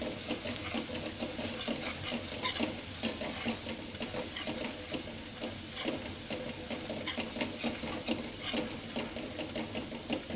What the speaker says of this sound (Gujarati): તેલ છૂટું પડી જાય ત્યાં સુધી એને સાતળવાની